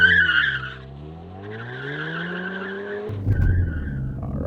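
A Ford Focus ST on launch control holds a steady high rev, then the clutch drops, bringing a loud tire squeal and rising engine note as the car pulls away hard, close and without talk.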